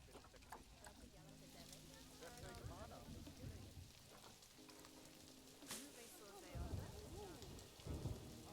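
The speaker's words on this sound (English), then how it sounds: "Oh, it's raining." Steady rain hisses in the Planet Zoo game, a soft, even patter with a low rumble, heard faintly beneath a person talking on and off.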